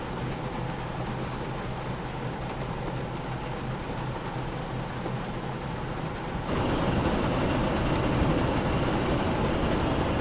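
A steam-era train rolling past in a train simulator on the West of England main line, a continuous rumbling clatter that suddenly grows louder and fuller partway through, with no voices.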